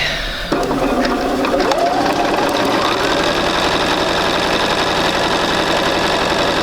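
Domestic sewing machine stitching a seam in fabric for a basic sampler, a close, continuous mechanical whir with a fast rattling needle rhythm that holds steady throughout, no speech over it.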